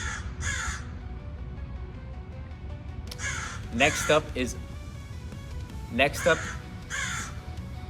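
A crow gives several harsh caws in scattered pairs over steady outdoor background noise while someone talks briefly near the end.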